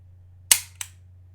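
A firearm dry-fired: a sharp mechanical trigger click rings out, then a second, softer click follows a moment later, close up against a low steady hum.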